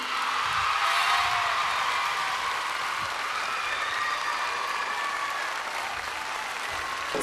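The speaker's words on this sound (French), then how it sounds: "je vous demande de faire un tonnerre d'applaudissements pour Anne-Laure." Steady, dense applause fills the whole stretch from a concert audience at a variety show in Vienne, sustained and fairly loud with no talk over it.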